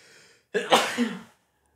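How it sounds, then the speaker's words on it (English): A single sharp sneeze bursts out after a brief quiet breath, loud and close, then trails off into silence. "I'm going to sneeze again."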